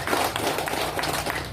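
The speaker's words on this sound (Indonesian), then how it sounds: "Kita tepuk tangan." Audience clapping at a political gathering, a steady wash of many hands applauding together throughout, moderately loud and continuous with no distinct pauses.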